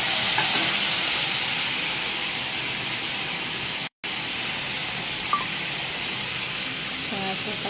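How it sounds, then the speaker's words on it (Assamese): Soy sauce sizzles loudly in a hot frying pan on a live cooking show, a steady broad hiss of frying with faint stirring clinks, cut by a brief silent break midway before the sizzle continues. "মই লাহেকৈ ইয়াত চয়া চচখিনি দি দিম।"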